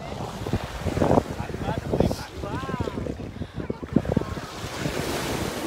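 Sea waves wash onto a sandy Mediterranean beach in a continuous surging hiss, mixed with wind buffeting the microphone, while people talk briefly over it.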